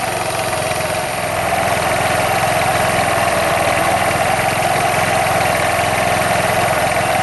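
A Chinese scooter with a CVT transmission runs at a steady idle, a continuous near engine drone with a faint vibrating buzz, unchanging and without talk.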